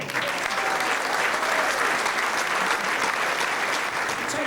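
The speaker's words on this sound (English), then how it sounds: "Will you give a nice round of applause?" Warm applause from a dinner audience at the Manchester United Disabled Supporters' dinner at Old Trafford, a steady, full wash of clapping from a large room that holds evenly throughout.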